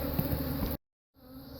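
A dense swarm of honeybees drones inside an opened hive during a hive split, a close, steady buzz that cuts out abruptly for a moment and then resumes.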